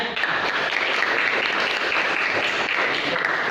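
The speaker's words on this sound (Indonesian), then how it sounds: "Nah, tepuk tangan dulu semuanya." A classroom of students at MTs Nurul Musthafa claps together in a dense, continuous burst of applause with no talking over it.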